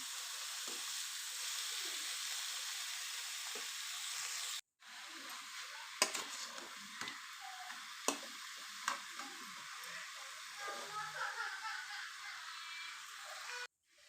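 Chicken pieces fry in a pan for chicken sukka, giving a steady, close sizzle that cuts out briefly and then resumes with scattered clicks of stirring.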